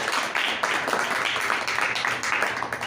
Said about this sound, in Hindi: आज जोरदार ताली हो जाए।